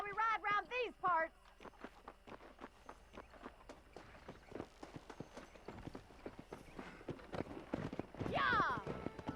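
Horse hooves clip-clopping at a steady trot in the western game Red Dead Redemption, rhythmic and moderately close, with a horse whinny near the start and end and voices talking over parts of it.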